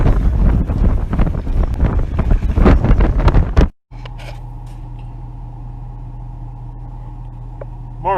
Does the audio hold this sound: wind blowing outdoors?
yes